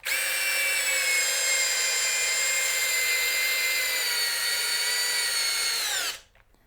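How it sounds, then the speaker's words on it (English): A DCK 12V drill on speed 1 drives a screw into wood with one continuous, loud, high motor whine that holds for about six seconds, sags slightly at the end, then cuts off abruptly. "We'll try this screw driven about the same amount in speed 1."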